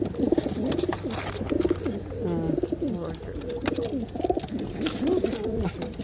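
Pigeons in a loft during deworming coo steadily and repeatedly, close and fairly loud, with a few light chirps mixed into the soft, continuous rolling calls.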